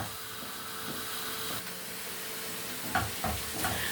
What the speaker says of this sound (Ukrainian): помішуйте цибульку, щоб вона так рівномірно просмажувалася